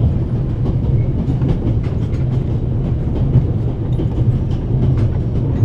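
A train rolls along in the game The Raven, heard from inside as a steady, loud rumble with faint rhythmic clicking of wheels over rail joints and no voices.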